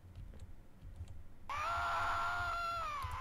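A Minecraft horror game screaming noise: a sustained, loud, wavering synthetic shriek kicks in abruptly midway after quiet clicks and faint background sounds.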